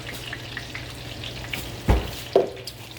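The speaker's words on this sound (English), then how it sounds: "And then we're also going to put you some butter in there too." Butter going into hot olive oil in a pan gives a soft, steady sizzle that runs throughout, with two brief louder spits or clatters near the end.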